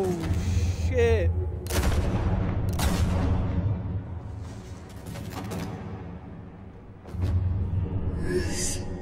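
Gunshots in the Telltale Batman video game ring out as several loud, booming cracks with echoing tails over a low rumbling score, spaced a second or two apart and mixed with brief talk.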